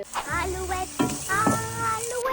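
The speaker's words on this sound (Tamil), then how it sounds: "ஃபர்ஸ்ட் நம்ம வெங்காயம் தாளிக்கணும்" Onions sizzle in a pan with a steady frying hiss, while a voice hums or talks in Tamil over it close by.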